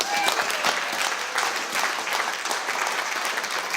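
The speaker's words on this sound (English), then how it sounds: "So a big round of applause for Bronwyn." Wedding guests applaud in a steady, dense round of clapping that fills the room, close and continuous for the whole stretch.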